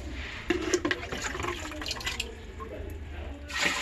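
Bore water being poured into a fish aquarium tank, a close splashing and trickling that rises and falls, with a brief louder gush toward the end.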